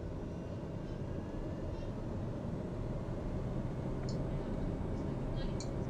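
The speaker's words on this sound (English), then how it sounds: "I love the engine sound of this plane." A propeller airplane engine in Microsoft Flight Simulator drones as a faint, steady, even hum that continues unbroken throughout.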